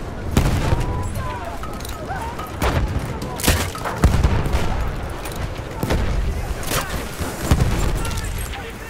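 Grenade blasts and gunfire in Battlefield 1 on the Tsarytsin map: heavy booms and bursts of rifle fire crack out repeatedly and irregularly over a rumbling battlefield, with voices shouting in between.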